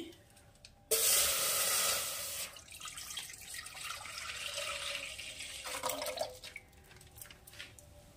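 Full cream milk, about 1.5 litres, pours into a pan on the stove for a Bengali milk sweet, heard as a loud, close liquid splash at first that settles into a softer continuous trickle and gurgle.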